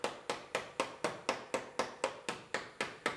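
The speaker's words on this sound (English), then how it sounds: "With a little tension on there, we can hammer out the inside edges." Steady, evenly spaced hammer blows ring out, about four per second, a dozen sharp metallic taps close up on a collision-damaged Lexus IS 250 body panel, with no talking.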